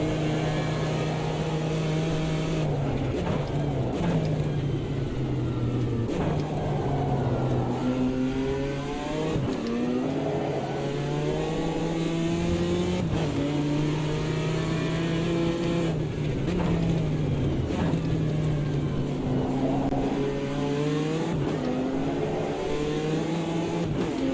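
Race car engines in Automobilista 2 while chasing a Camaro, a steady loud drone that rises and falls through repeated gear shifts and revs, continuous for the whole stretch.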